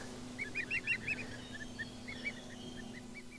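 Several geese honk on a farm, a quick burst of loud calls early on followed by scattered, fainter honks over a low steady background hum.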